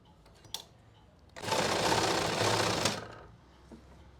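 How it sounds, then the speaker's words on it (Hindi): A sewing machine stitches along folded fabric, a single steady run of fast mechanical whirring lasting about a second and a half, close and clear, with quiet surroundings before and after. "और आसन से 2 इंच पहले शुरू करेंगे सिलाई।"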